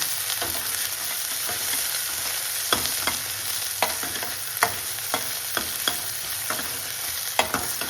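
Onions brown slowly over a low flame in a pan for moong and masoor lentil dal, a steady close sizzle broken by repeated sharp scrapes and taps of a spatula, with no talking.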